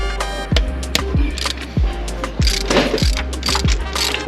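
Ratchet wrench loosening a bolt on a Dodge Challenger's engine while the belt and pulley are removed for a supercharger install, giving a fast, loud clicking run broken by about seven sharp, evenly spaced strokes.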